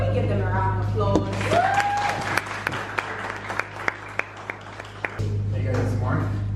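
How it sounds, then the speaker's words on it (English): Audience at a panel discussion giving scattered, individually distinct claps that spread over a few seconds, with speaking voices before and after. "So can we give them a round of applause?"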